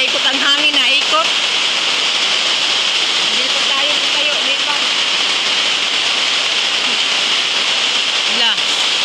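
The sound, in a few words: heavy rain in a storm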